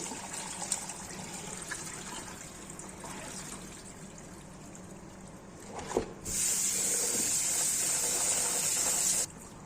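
Water splashes and trickles as goat tripe is rinsed by hand, then a tap gushes loudly for a few seconds before stopping.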